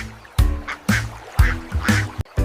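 A duck quacks loudly and close by, about five harsh quacks in a quick uneven series, each one nasal and distinct.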